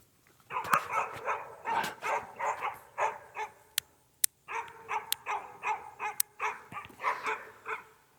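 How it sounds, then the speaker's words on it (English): Repeated dog barks in quick bursts, fairly close, with a short pause midway before the barking resumes at a steady rhythm. "Sorry about the dogs barking"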